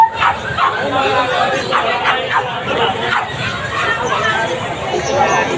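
Several dogs of different breeds and sizes bark and yip repeatedly at close range at a market, overlapping one another amid a busy background of chatter and voices.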